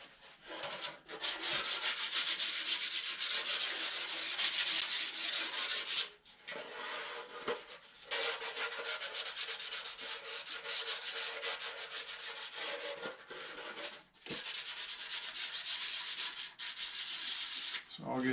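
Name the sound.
sanding wooden model parts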